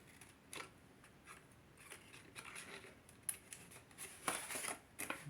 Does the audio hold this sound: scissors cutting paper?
yes